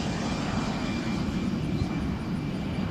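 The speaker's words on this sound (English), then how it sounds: "Isn't that amazingly quiet for a big 4-engine jet?" A steady, broad engine roar from a four-engine KC-135 jet aircraft on a demonstration flight passing overhead at Lakeland, continuous and fairly even in loudness with no voices.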